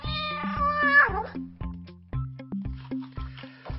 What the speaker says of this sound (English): I think it's only a cat.